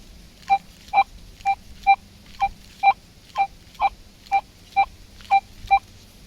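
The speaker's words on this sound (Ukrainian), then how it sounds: "телефон ближче піднесу до блока, щоб вам було краще чути сигнал, тому що сигнал тихий" Mars Veles metal detector signalling over a buried Catherine II 5-kopeck coin in soil: a faint, regular series of about twelve short beeps at an even pace, recorded near the control box.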